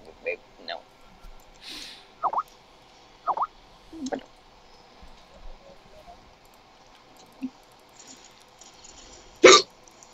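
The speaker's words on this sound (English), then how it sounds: "that's what happens when you hiccup" Repeated hiccups, about eight sharp little gulps spaced irregularly, close and clear, with quiet gaps and a louder final one.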